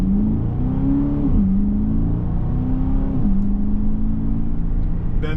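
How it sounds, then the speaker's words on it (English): Aston Martin DBX SUV accelerating in Sport Plus mode with the exhaust valves open, a loud steady engine drone rising in pitch through two gear changes, close and continuous with no talk. "it opens up the valves in the exhaust to give you a little better note"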